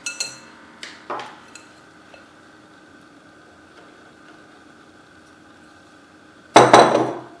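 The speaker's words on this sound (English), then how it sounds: "Gently mix all the ingredients well" A utensil clinks and scrapes against a bowl while apple pancake batter is stirred with flour, with a few sharp taps early on, a quiet stretch, then a louder clattering burst near the end.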